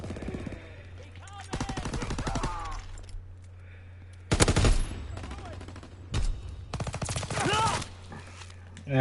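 A PPSh submachine gun fires in the Call of Duty WW2 video game, several loud automatic bursts with pauses between them, under intermittent voices and background battle noise.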